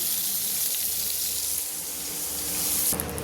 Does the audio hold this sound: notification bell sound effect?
no